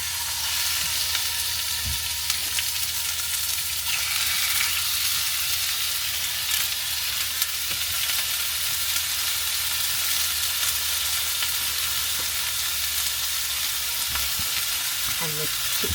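Fillet steak frying in a pan, a steady close sizzle and hiss that runs without pause, with a few faint clicks and knocks of the pan near the end.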